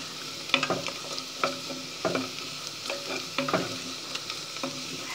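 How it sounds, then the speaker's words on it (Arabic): Onion frying in a pan for grape leaf stuffing, a soft steady sizzle with repeated scraping stirs of a utensil against the pan, close and moderately quiet. "وهنا انا حمرت البصلة، بحمرها"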